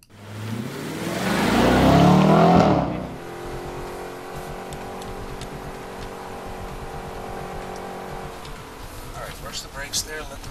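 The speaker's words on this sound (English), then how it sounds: "This time we're going to let the engine do most of the talking." A 2013 Audi RS5 engine revs hard during a fast drive, a loud close rising roar for a few seconds that then settles into a steady droning hum as the car cruises.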